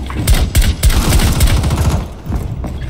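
Rapid gunfire in the video game Rainbow Six Siege, with a loud, close burst of repeated shots in uneven rhythm followed by a quieter stretch of mechanical thumps.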